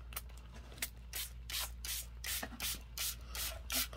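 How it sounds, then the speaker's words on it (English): A mixed media spray bottle is pumped onto a junk journal page in a run of about eight short, sharp hissing bursts with brief gaps between them, close and fairly quiet, with no talking. "Continue to spray."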